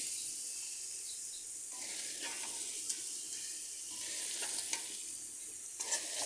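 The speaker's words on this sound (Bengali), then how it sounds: "কাঁকড়াগুলোকে মশলার সাথে আবার ভালো করে কষিয়ে নিচ্ছি দেখুন" Fried crabs are stirred into a spice masala in a pan, giving a soft, continuous sizzle with intermittent scraping as the pieces are turned. The sound is moderately quiet and steady throughout, with no voices.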